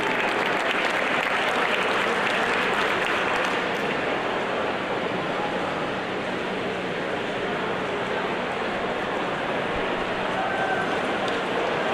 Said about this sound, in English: One more round of applause for the medalists for event 1.